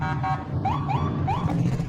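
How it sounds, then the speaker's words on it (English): A police car siren wails in rising sweeps, three quick loud cycles in a row, heard up close and alone, without any talk. "Police car, a car that helps police keep people safe."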